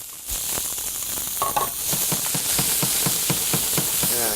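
Onions dropping into hot oil in a pan and sizzling steadily, with a bright hiss throughout and a regular series of soft knocks from stirring, close and loud.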